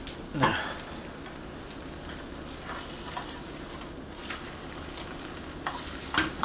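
Breakfast frying in a slip stone pan, a steady broadband sizzle running throughout with a few brief clatters of utensils near the start and end, close and moderately loud.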